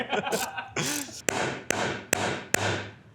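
Four sharp, loud metallic knocks at a steady interval strike an engine cylinder head held down by head bolts during a head gasket job, each ringing briefly; brief voices and a chuckle precede the blows.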